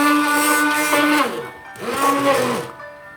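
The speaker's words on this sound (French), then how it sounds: "Je prends mon mixeur." A kitchen blender purees persimmon jam in two loud bursts of whirring motor noise, the first longer and the second shorter, with a brief lull between them and the pitch shifting as the fruit breaks down.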